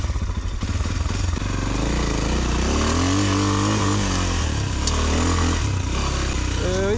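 An Exdrive Tekken 250cc motorcycle rides through a forest, its engine droning loud and close with rising and falling revs throughout, and a voice talks over it.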